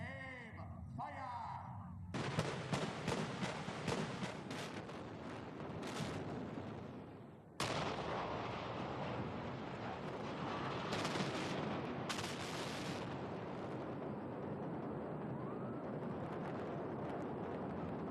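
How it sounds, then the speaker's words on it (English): Broadside cannon fire from a ship, heard as a dense series of loud booming blasts and rumbling volleys, one sharp crack in the middle, then a sustained roar, with shouted commands over it. "Captain of the Britannia, prepare broadside. Ready, aim, fire!"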